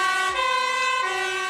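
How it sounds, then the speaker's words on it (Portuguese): An ambulance siren sound effect plays a loud, steady electronic wail that rises and falls slightly, close and dominant with no talk over it. "Vamos chamar a ambulância aí."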